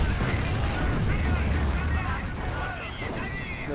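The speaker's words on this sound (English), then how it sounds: "This tank's getting slowly damaged by small arms fire." Steady battle din from Company of Heroes, with small arms fire rattling against a tank amid dense continuous gunfire and rumbling, while someone talks over it.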